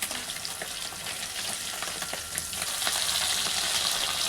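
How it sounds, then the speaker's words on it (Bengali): Lentil dumplings (bori) frying in hot oil in a wok, giving a steady close-up sizzle with crackling pops that grows slightly louder toward the end. "বড়িটা একটু ভেজে তুলে রাখবো"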